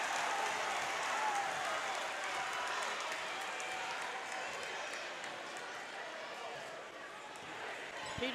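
A basketball crowd in a gym cheers after a dunk, a sustained roar of voices and clapping that slowly eases over several seconds.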